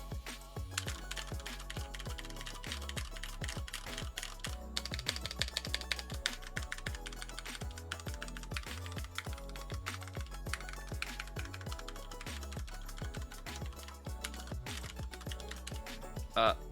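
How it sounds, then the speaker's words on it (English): Rapid, steady typing on an Asus keyboard with hard plastic keys, a dense run of close, crisp clicks and clacks lasting throughout with no talk. "let's just do a sound test of the keys"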